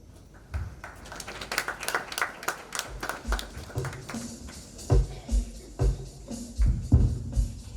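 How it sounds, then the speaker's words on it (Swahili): At a Form Six graduation ceremony at Bendel Secondary School, an audience claps in scattered, uneven bursts, some claps sharper and nearer than others, with a few voices faintly in the background. "Wapi makofi mengine kwao?"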